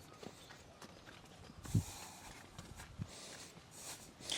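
A horse on a farm clip-clops with a few scattered hoof steps, faint and somewhat distant, over rustling outdoor background noise.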